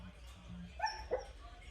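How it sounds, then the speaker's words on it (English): A dog gives a couple of soft, muffled whimpering yips, quiet and close, like a sleeping dog's barks, over faint background noise. "She's sleeping and barking in her sleep"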